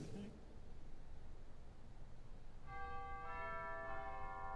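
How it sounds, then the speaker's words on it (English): Chimes on the 1863 E.F. Walcker / 1946 Aeolian-Skinner organ at Methuen Memorial Music Hall ring out as sustained bell-like tones that enter partway through and layer into a resonant held chord in a large hall, after a brief voice at the start. "Can't forget the chimes. Yeah. Recent addition."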